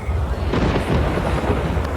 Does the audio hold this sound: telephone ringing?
no